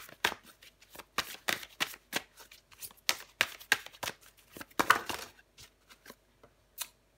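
Tarot cards are shuffled by hand in a quick, irregular series of crisp riffling bursts, close and clear, with no talking, thinning out to a few last taps at the end.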